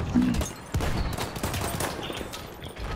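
Gunfire in the video game Battlefield 1, a chaotic mix of repeated shots and battle noise that stays busy and fairly loud across the whole span.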